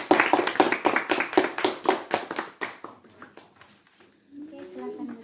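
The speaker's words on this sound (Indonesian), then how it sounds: "Beri aplaus untuk teman-teman." Classroom applause for classmates, a burst of quick, close hand claps for about three seconds that fades into scattered taps, followed by a voice talking.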